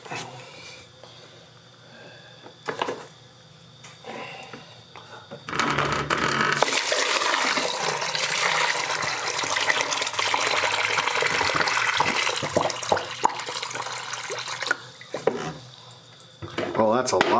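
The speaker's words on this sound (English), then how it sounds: "Let's try pouring water and see how fast it goes down now." Water is poured into a basement floor drain and gushes loudly and steadily for about nine seconds, draining quickly, with quieter handling sounds before and after and brief talk nearby.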